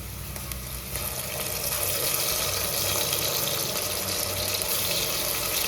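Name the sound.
ginger garlic paste frying with onions in a pan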